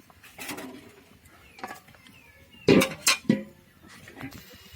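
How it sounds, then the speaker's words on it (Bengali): A large metal wok (kadai) is set down on a stove, giving a couple of sharp, close clanks and knocks amid quiet kitchen background with faint birdsong. "এই তো দেখেন একটা কড়াইতে নিয়ে নিয়েছি, বড় কড়াই দেখে। এখন আমি চুলায় দিয়ে দিব।"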